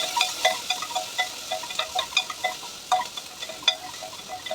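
Onion and garlic frying with mustard seeds in hot oil, giving a quiet, irregular crackle of sharp little pops and spits that keeps up throughout.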